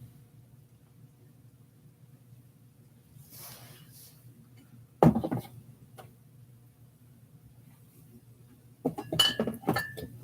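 Glass bottles, including cheap wine bottles, clink as they are set back into a storage space: a sharp single clank midway, then a quick cluster of rattling clinks near the end over a low steady hum.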